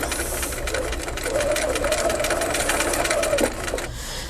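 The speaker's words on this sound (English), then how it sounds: "So I'm going to sew to the slit." A sewing machine stitching fabric along a slit in quilt piecing, with rapid even mechanical chatter that runs steadily at close range, a brief whine in the middle and a stop near the end.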